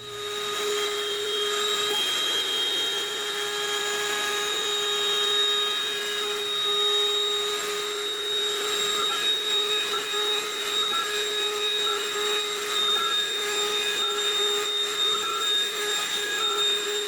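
A CNC machine mills the flat face of a clamped blank for a dead blow mallet head, giving a steady, loud whine with sustained tonal bands that runs without a break for the full length.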